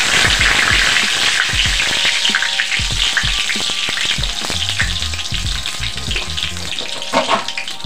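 Asafoetida and bay leaves dropped into hot oil set off a loud, continuous crackling sizzle with dense popping, and a utensil knocks and stirs in the pan throughout.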